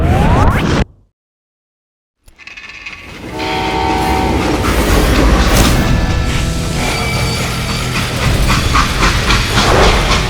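A train in the video game Call of Juarez: Gunslinger rumbles along loudly with rhythmic clatter and a horn-like tone, after a brief moment of silence near the start.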